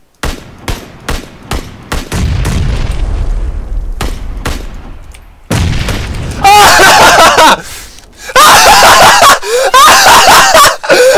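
A grenade blast in a PUBG match lands amid bursts of gunfire, loud and close, with rumbling low booms and excited screaming and shouting from players.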